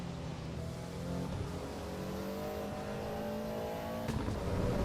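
A tuned Ford Focus RS MK3 in the racing game Assetto Corsa EVO revs and accelerates steadily with its exhaust flaps open, its raspy exhaust note climbing in pitch, with a brief sharp whoosh near the end.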